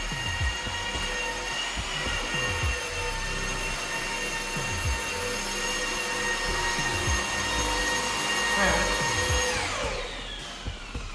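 A machine polisher running on the bonnet of a VW T6 van, a continuous whining, humming drone with steady high tones, heard from a short distance and rising slightly near the end.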